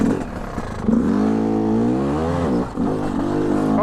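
A dirt bike engine revs hard on a trail ride, a loud, close, buzzing drone that climbs in pitch, dips briefly and climbs again over about four seconds.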